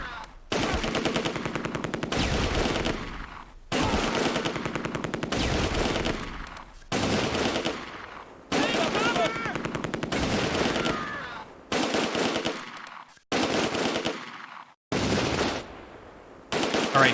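Repeated bursts of machine gun fire from the Close Combat: A Bridge Too Far war game, loud and close, coming in long rattling volleys with short gaps of quiet between them.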